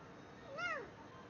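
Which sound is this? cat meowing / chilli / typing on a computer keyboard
cat meowing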